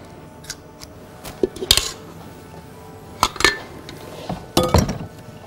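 An ice cream scoop clinks against a metal cupcake tray while batter is portioned into it, giving a few sharp metallic taps in separate clusters, close and fairly loud, with no talking.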